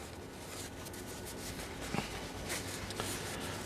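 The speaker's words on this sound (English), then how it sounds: "I tore off the end so it would kind of fit this way, and then I'm going to fold it" A paper towel, its end torn off, being folded and creased by hand: steady soft crinkling and rubbing with a few small crisp crackles, close and quiet, no talk.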